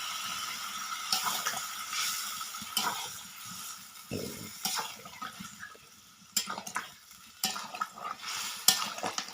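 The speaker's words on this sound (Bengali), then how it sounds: "তো দেখতেই পাচ্ছ এই যে জল দিয়ে দিচ্ছি আমি।" Water is poured into a pot of chicken meat as a close splashing, gurgling stream, with intermittent clinks and scrapes of the pot between pours.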